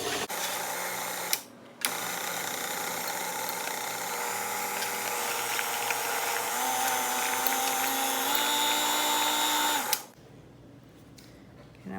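An electric hand mixer whirs steadily as it beats powdered sugar into cream cheese icing for carrot cake, starting slow and rising slightly in pitch, with a brief pause early on before it stops near the end.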